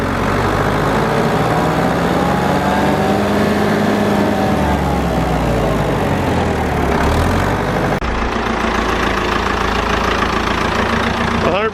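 A loud 60-year-old tractor engine with a new muffler runs steadily at idle, thumping and rumbling continuously with a slight shift in pitch partway through.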